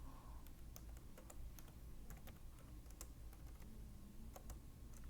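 Fingers typing a tweet on a computer keyboard, a quiet, close run of irregular clicking keystrokes over a low room hum, no voices.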